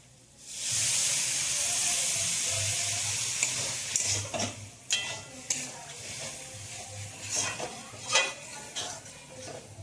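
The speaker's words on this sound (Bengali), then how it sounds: "তো দেখুন এই গা থেকে তেল ছেড়ে গেছে, এবার আমি এর মধ্যে জল দিয়ে দেব।" Water hits chicken frying in hot oil, bursting into a loud steady hiss and sizzle, then a spoon stirs and scrapes the pan in uneven clatters as the sizzle settles, close up.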